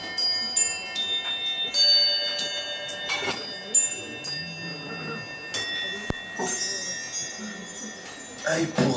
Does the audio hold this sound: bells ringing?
yes